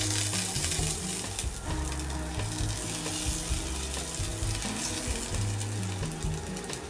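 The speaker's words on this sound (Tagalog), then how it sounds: "Lagay ko na yung sibuyas." Chopped onions fry in a hot pan, giving a steady, loud sizzle with busy crackling and stirring clatter throughout, close and continuous with no voices.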